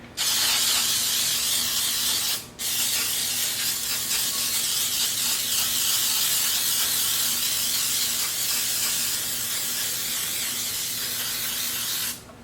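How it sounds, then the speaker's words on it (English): Baker's Joy cooking spray hisses loudly and close onto a muffin tin, broken by one short pause, then resumes and runs until it stops abruptly. "I'm going to go ahead and spray my muffin tin so it will be ready."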